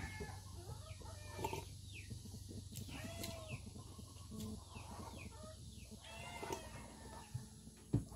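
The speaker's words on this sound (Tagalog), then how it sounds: "Yan ang manok." Chickens cluck and call repeatedly over a steady low background hum, several birds at moderate distance with a few sharper calls toward the end.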